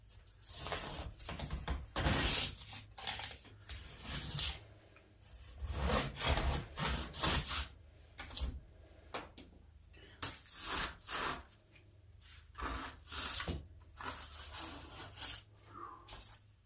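Steady back-and-forth sawing strokes cut off excess material in a workshop, with rhythmic rasping bursts and short pauses throughout, fairly close.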